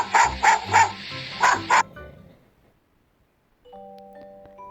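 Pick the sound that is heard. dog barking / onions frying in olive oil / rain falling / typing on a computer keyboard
dog barking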